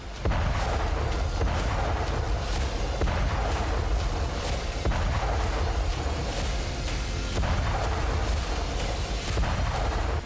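Frontline artillery fire in a Russia–Ukraine war zone, a sustained barrage of booms and sharp blasts recurring every second or so over continuous loud rumbling, with no voices heard.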